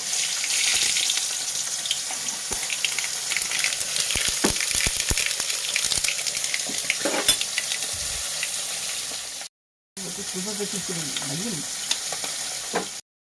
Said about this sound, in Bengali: এই পাশের কড়াইতে তেল গরম হয়ে গেছে পক রান্নার জন্য শস্য দিয়ে দিচ্ছি